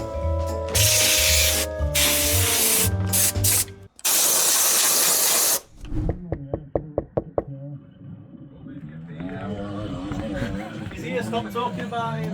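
Grease sprayed onto a KTM EXC motorcycle bearing: two long, loud hissing aerosol bursts, followed by a series of sharp knocks, then quieter rubbing and handling sounds with some talking.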